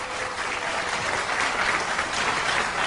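Steady, dense applause from a large crowd of party delegates and supporters at a Democratic Party national convention eve rally, filling the hall evenly from start to finish.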